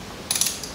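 A torque wrench fitted with a T30 bit turns a brake rotor screw on a C7 Corvette Stingray Z51, giving a quick burst of close, crisp ratchet clicks lasting about a fifth of a second, with one faint extra click after.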